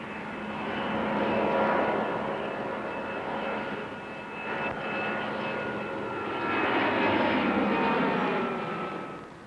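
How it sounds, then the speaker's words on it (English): An Airbus A310 airliner lifts off on its first flight, a loud, steady jet engine roar sustained throughout with a slowly swelling and easing intensity and no voices. "The A310 lifts off into its element."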